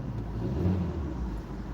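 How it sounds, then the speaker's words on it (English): A parked car's engine revs with a steady low rumble that swells slightly and then settles, close and loud with no talk. "I'm gonna put the car in park and rev it up."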